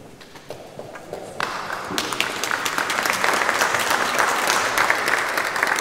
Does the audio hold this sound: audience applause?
yes